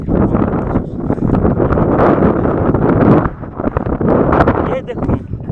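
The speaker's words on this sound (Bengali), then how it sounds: "কীভাবে বাতাসে দুলছে প্রচুর বাতাস" Strong wind blowing across open grassland in a village, heavy continuous rumbling gusts buffeting the microphone, loud and close throughout.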